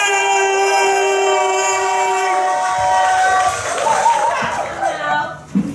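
A crowd cheers and claps for a performer, Universal African King, at a live event, a loud sustained roar of voices with whooping that swells midway, then settles into scattered claps.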